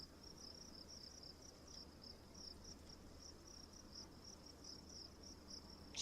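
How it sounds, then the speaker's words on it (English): Crickets chirp in a steady, high, pulsing trill on a quiet summer night, a faint continuous chorus over a soft background hiss with no voices. "Just add some crickets."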